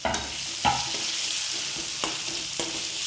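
Chopped onion with turmeric and curry leaves sizzles in a pan as a spoon scrapes and taps the metal several times at uneven intervals, with no talking.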